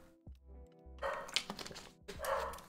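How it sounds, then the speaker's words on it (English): Dogs bark in two loud, close bursts separated by a short pause, with a low thump at the start. "My dogs are still barking."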